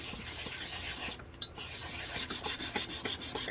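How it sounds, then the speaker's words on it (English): Sandpaper rubbed by hand to roughen the surface of a Dollar Tree craft piece, with quiet rasping strokes in a quick irregular rhythm and a brief pause in the middle. "I'm gonna try and see if I can roughen it up with some sandpaper"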